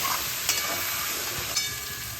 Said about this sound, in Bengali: এবার ভালোভাবে শুকনো মশলাগুলো কচুর সঙ্গে কষিয়ে নেব।